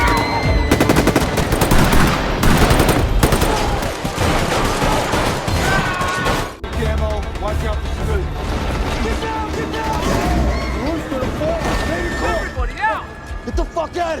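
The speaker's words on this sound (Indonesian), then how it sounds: "hingga terjadilah baku tembak" Gunfire erupts as a SWAT team and robbers trade shots in an action film: dense, continuous bursts of automatic fire under loud music and shouting, with crashes mixed in and no gaps.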